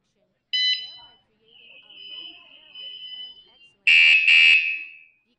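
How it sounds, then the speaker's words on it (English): A KS-SF22R bicycle anti-theft alarm, rated 113 dB, sounds a short shrill beep, then a steadier tone, then two loud piercing blasts close up, with no talking over it. "Trigger again, it will alarm."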